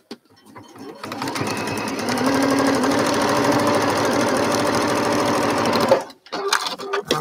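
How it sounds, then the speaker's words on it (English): A sewing machine stitches quilt pieces together, a steady, continuous mechanical whir running for about four seconds close by, then stopping abruptly, followed by a few small handling clatters. "Let me sew this together."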